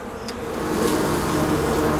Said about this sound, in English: they're already wagging their tails and fanning their wings, sending pheromones out